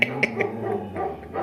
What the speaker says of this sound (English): Don't have your dogs barking while you're trying to talk about stuff all the time.